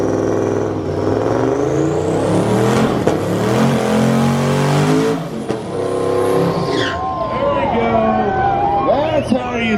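Ruby, a car fitted with a new motor, is run at a burnout contest. Its engine revs hard and climbs in pitch, then drops back and sputters with rapid popping bursts, over a loud crowd and voices.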